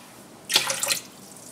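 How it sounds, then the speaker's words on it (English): Cold water runs briefly from a tap while preparing homemade yeast-carbonated ginger ale, a short close splashing burst of about half a second that fades quickly, with no talking. "I'll give it a little bit more cold water."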